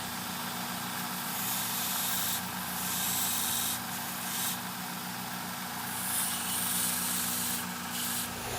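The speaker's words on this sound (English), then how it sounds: "Now I'm going to just take it to the sander and bring them down to about the finished" A belt sander grinds down the brazed joints of a brass muffler clamp, a steady continuous abrasive rub with a low motor hum underneath, holding at an even, moderate level with slight swells as the workpiece is pressed against the belt.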